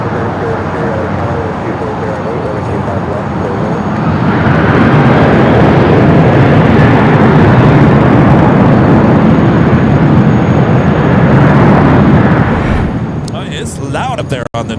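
Jet aircraft roar at Los Angeles LAX airport, a loud broadband rush that builds over several seconds, peaks and holds, then fades toward the end.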